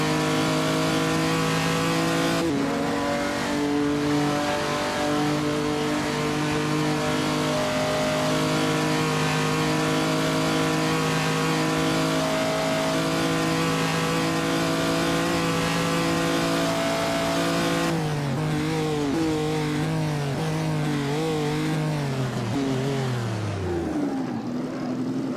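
Racing car engines roar in Assetto Corsa during an online 1949 Noris-Ring Grand Prix. A loud, sustained engine drone holds steady pitch, then shifts with revving and pitch sweeps near the end. It sounds close and continuous, with no talk.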